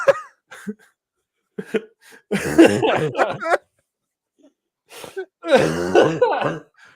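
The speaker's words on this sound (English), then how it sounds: "the coughs are coming" Several bursts of harsh coughing and throat clearing, close and fairly loud, separated by short silences.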